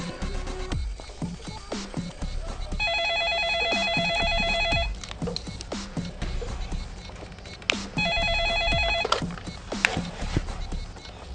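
An electronic telephone ring in a Bollywood gangster film as an outgoing call connects, two bursts of even repeating tones over busy background sounds and clatter, loud and close.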